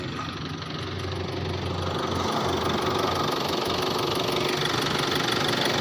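A steady mechanical engine rattle runs throughout from an overheating Hyundai Tucson engine, a continuous knocking drone that grows slightly louder and stays constant, with no talking.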